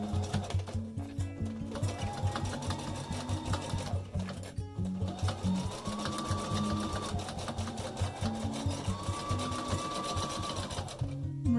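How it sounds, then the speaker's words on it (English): A sewing machine runs steadily close by, stitching the fabric of a face mask with a rapid rhythmic chatter that briefly pauses and resumes, its motor pitch rising and falling with speed. "So now we're going to sew."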